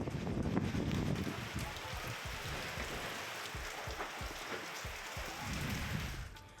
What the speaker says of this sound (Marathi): अमरावती जिल्ह्यामध्ये वादळी वाऱ्यासह जोरदार पावसाला सुरुवात झाली आहे.